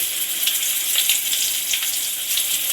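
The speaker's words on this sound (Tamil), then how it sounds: "இப்போ கடுகு நல்லா பொறிஞ்சிச்சு கொஞ்சமாக கருவேப்பிலை" Mustard seeds and curry leaves fry in hot oil for a Tamil fish curry, giving a steady bright sizzle with small crackling pops throughout.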